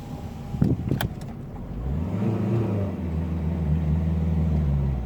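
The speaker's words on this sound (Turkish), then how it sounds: "daha camını açayım da bir ara gazını duyun ya" A Citroën C-Elysée engine revs up from idle, rising in pitch and then holding a steady, throaty drone, heard from close by through an open window with no talking.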